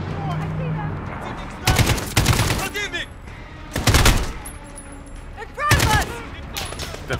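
Gunfire in the Call of Duty Modern Warfare video game comes in three loud, rapid automatic bursts about two seconds apart, with quieter game sounds and ambient noise filling the gaps between them.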